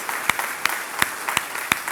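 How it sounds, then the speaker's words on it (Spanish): Welcoming applause from a church congregation at a Sunday service, a steady wash of hands clapping with a few sharper individual claps standing out at irregular intervals. "Nos damos un aplauso de bienvenida"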